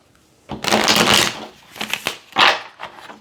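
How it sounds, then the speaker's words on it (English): A deck of tarot cards is shuffled by hand, several crisp riffling bursts close up with short pauses between them and no talk over them. "Let me do a quick shuffle."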